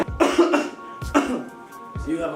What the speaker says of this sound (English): You've got a sore throat and a cough.